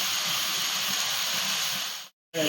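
Soybean chunks frying in hot oil in a home kitchen, a steady loud sizzling hiss that runs continuously, cuts out briefly near the end, then resumes.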